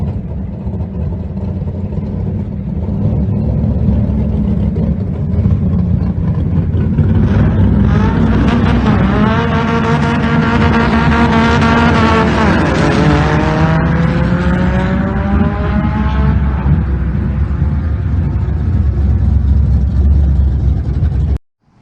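Turbocharged VW Bug engine revving hard and holding against the rev limiter, a loud, continuous close-up roar with rising and falling tones that cuts off abruptly at the end.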